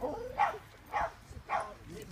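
A dog gives three evenly spaced short yips or whimpers, fairly faint and close, with little else around them.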